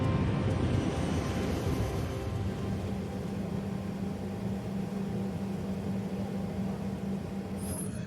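A BAC 111 jet airliner carrying passengers as it climbs, a steady, loud cabin-like engine roar with a low droning hum that continues evenly throughout.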